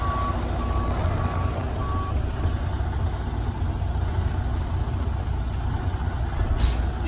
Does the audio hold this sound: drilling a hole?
no